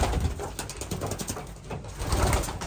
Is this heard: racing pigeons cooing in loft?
yes